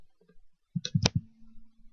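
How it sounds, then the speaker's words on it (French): A normal computer keyboard clatters in a quick burst of four or five sharp keystrokes as pinyin is typed for Chinese characters, followed by a faint lingering hum. "vous écrivez simplement avec votre clavier normal le pinyin"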